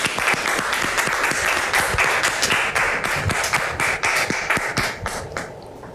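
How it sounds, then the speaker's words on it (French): A studio audience applauds for a guest on a French-language talk show, dense and sustained clapping at close range that stays loud for several seconds before starting to thin out. "public, merci de recevoir Dame Bebo sous vos applaudissements"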